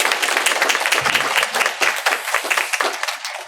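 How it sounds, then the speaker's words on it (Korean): A church congregation in a Korean service breaks into dense, sustained applause, many hands clapping together, loud and steady throughout with slight fading toward the close. "박수로 한번 격려하겠습니다."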